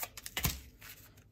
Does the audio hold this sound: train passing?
no